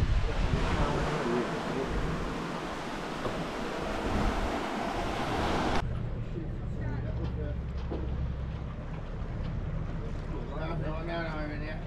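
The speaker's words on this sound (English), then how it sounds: "Yeah, it's windy." Strong wind roars across the microphone on a fishing boat at sea off South Australia. Heavy buffeting is loud at first, then drops to a lower rushing of wind and water, with faint voices underneath.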